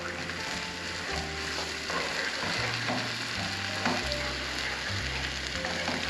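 Milk poured into a pan of thickening sausage gravy, sizzling and bubbling loudly and continuously with steady stirring, close up and without talk.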